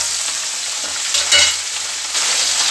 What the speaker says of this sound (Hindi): थोड़ा प्याज को फ्राई करूँगी